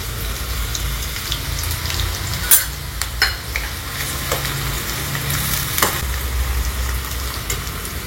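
Chopped onion and green chilli sautéing in hot oil in a pan, a loud continuous sizzle with scraping stirs and a few sharp clinks of the spatula, close by.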